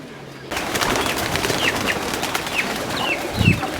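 Small pigeons cooing and calling in a lively, close flock, with brief chirps and a bit of wing flapping over steady background noise.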